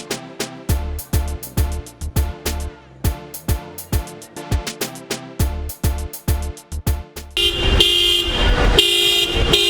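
Car horns honk over and over in congested road traffic in Port Antonio during a by-election, with short toots and longer blasts coming in an uneven rhythm. A louder, denser wash of engine and horn noise builds near the end.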